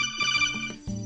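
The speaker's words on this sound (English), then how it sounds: "That's my phone." A mobile phone ringtone plays close by, a short bright electronic melody of a few rising and falling tones lasting about a second, with no talk over it.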